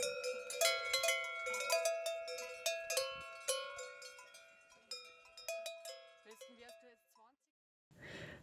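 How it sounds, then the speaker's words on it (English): Many cowbells clang close by with overlapping, irregular metallic strikes that ring and fade, thinning out toward the end before a brief pause. "All I can hear is the sound of the cowbells."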